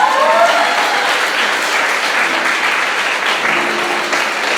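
Loud, dense applause from a church congregation during a worship service, continuous clapping and cheering throughout, with a faint voice briefly audible beneath it.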